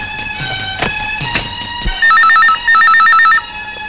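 An electronic telephone ring sounds in two loud warbling bursts after a few sharp knocks and thuds in a tense film scene, close and with no talk over it.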